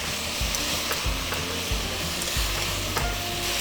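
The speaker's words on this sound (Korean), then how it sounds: "그리고는 계속 볶아주세요." Torn king oyster mushrooms fry in a pan with a dense, constant sizzle and a regular rhythm of spatula strokes against the pan, close and loud.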